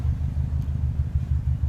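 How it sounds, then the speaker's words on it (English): Cobb exhaust on a 2011 Subaru WRX at a road-trip pit stop, a low, pulsing burble at idle, close up and steady with no voices. "So I went ahead and took a little video of the Cobb exhaust."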